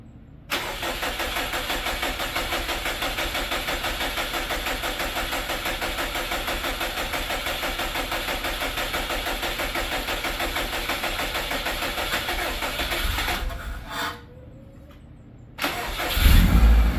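A freshly built Subaru 2.5RS engine in a garage cranks and fires, then holds a steady, loud idle for about thirteen seconds before cutting out, followed by a brief clunk and a second burst of noise.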